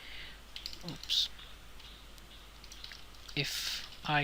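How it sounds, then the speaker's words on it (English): Computer keyboard typing while working in an Excel spreadsheet: a few short bursts of key clicks near 1 s and 3.5–4 s, with someone talking between them. "if I type true and hit enter"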